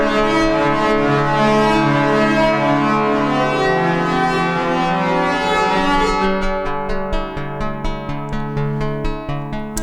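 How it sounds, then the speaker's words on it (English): An Erica Steampipe synth with feedback produces a sustained, breathy, bowed string-like drone, loud and harmonically rich, shifting after a few seconds into a series of repeated pulsing notes, with no voices. "We could bring in some attack and we'll get a more bowed string-like sound."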